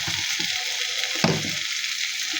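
Small prawns in a bhuna masala with plenty of chopped coriander leaves sizzle steadily in a pan, broken by a few scraping stirs of a spoon, with no talking.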